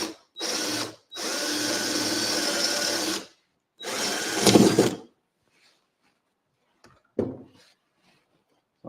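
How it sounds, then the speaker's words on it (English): Power drill boring a 12 mm hole for a model railway point rod, loud whining bursts in three runs with short pauses, then quiet with a few faint knocks and a thud. "So that's a 12 mil hole for the point rod to come through."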